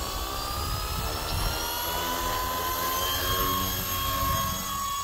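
A Blade 230S RC helicopter flies with a steady, loud rotor and motor whine, its tones drifting slightly in pitch throughout the five seconds and no voices over it.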